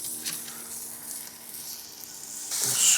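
Smash burger patties of 60 grams sizzle on a hot grill with a steady, close frying hiss, and a louder burst of crackling comes near the end as another patty goes down.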